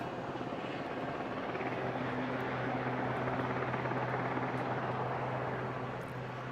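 A rescue helicopter hovers at an air show while a winchman loads a casualty aboard, its rotor and engine roar steady, loud and continuous throughout.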